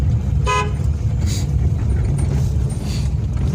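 A short car horn toot sounds once over the constant rumble of a running vehicle, with faint road noise around it.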